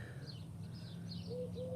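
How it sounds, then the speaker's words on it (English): Birds sing faintly in the background: soft, repeated warbling chirps with a few cooing notes over a low steady hum, with no talking. "and you hear all the birds."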